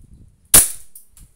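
A single sharp, close snap from an E&C airsoft Glock 19 pistol firing, with a short fading tail and a faint click after it.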